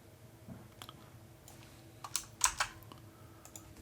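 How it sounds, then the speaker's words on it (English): Typing on a computer keyboard while configuring Cisco router VLANs: a quiet run of light key clicks, scattered at first, then a brief denser cluster of taps over low background hum. "we're going to type in server name"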